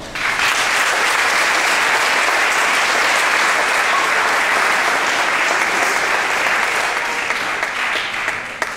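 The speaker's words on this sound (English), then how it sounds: "Give them a round of applause." Sustained, loud applause from an audience at a school recognition day ceremony, a thick, even roar of many hands clapping that continues throughout with no speech.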